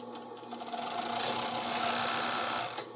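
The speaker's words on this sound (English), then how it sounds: "Just like the sewing machine." Sewing machine stitching kilt fabric, a steady close whirring motor run that speeds up and holds for about two seconds before slowing to a stop.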